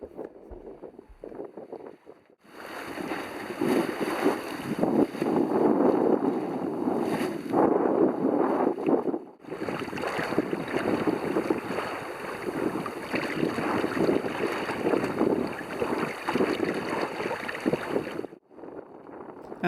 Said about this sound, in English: so to have this little pleasurable sail for the last third of our voyage is very nice indeed